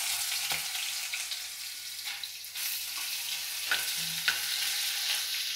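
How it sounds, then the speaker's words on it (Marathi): Ginger-garlic paste and whole spices sauté over low heat for dum aloo, a continuous soft sizzle broken by occasional spoon scrapes against the pan, close and unaccompanied by speech. "गॅस बारीक ठेवायचा, चांगलं परतून घ्यायचं हे."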